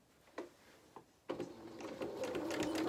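Domestic sewing machine stitching the head and face of a fabric toy rabbit, first two brief stop-start bursts, then a steady, close, continuous whirring run.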